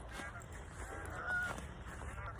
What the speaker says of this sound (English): Listen to the geese in the background and the crunching of grass.